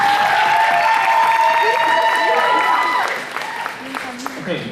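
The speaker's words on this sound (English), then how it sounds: "Another round of applause for them." A school Christmas showcase audience applauds and cheers, the clapping running under sustained whistles or high cheering tones for a few seconds before tapering off, with voices talking near the end.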